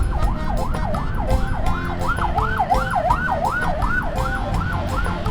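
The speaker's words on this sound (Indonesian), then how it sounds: "Aduh ini polisi ambulan nih" A wailing emergency siren from a police ambulance on a street, rising and falling in a fast regular yelp, loud and near over steady traffic and engine rumble.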